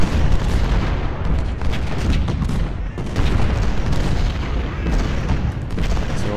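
Cannon artillery fire in the Civil War video game Ultimate General: Civil War, a loud, dense barrage of overlapping booms and rumbling blasts that continues without a break.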